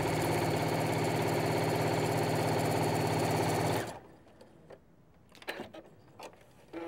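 A home sewing machine stitches the side and bottom seams of a fabric bedroll cover, running steadily and loudly with a buzzing rhythm before stopping abruptly, followed by a few faint handling clicks and rustles.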